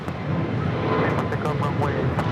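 Jet airliner departing a runway at Los Angeles International Airport, a steady broad roar throughout, with voices talking over the engine noise.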